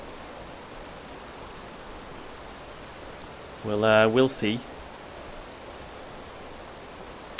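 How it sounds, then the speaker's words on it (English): Heavy downpour in the video game Enderal, an even, dense rain hiss throughout, with a man's short spoken remark rising briefly over it midway. "Don't get rain like this in vanilla Skyrim."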